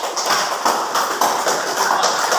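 Classroom students clapping together after roll call, loud close rhythmic claps in a steady pulsing pattern, with no talking over them.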